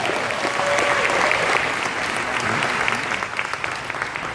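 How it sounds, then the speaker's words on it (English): A live audience at a motivational speaking event breaks into sustained, dense applause, steady clapping filling the room and slowly tapering, with faint crowd voices mixed in. "Give yourselves a round of applause"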